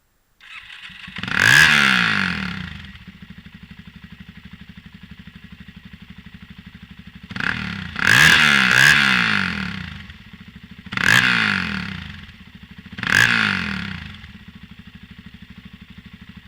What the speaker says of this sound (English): bit of sound from the exhaust.